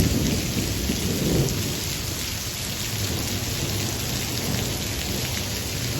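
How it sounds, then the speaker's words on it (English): A heavy monsoon downpour pounds steadily at a tropical park, a dense roar of rain close by with low rumbles of thunder rolling beneath it, and no voices. "heavy lightning and thunder."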